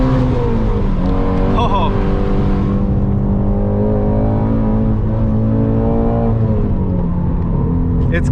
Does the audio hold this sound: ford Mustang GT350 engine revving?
yes